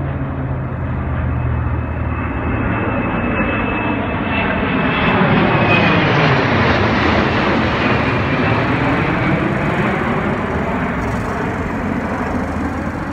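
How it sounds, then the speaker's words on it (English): Loud, close roar of a DC-10 jet airliner flying low over a wildfire, a broad sustained engine rush that swells and shifts pitch as the plane passes overhead, with no voices. "It came from a DC-10 jet airliner."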